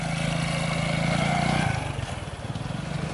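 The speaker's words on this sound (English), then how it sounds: "2 scooters at the same time passing." Small engines drone loudly close by, one pitch dropping as it passes while another buzzes on, like scooters going past together.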